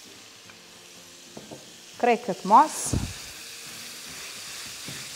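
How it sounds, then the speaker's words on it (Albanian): Minced meat filling seasoned with salt and black pepper is stirred and fried in a pan, giving a brief, loud sizzling burst midway amid otherwise quiet kitchen sounds and a short spoken remark. "e përzijim mirë dhe skuqim"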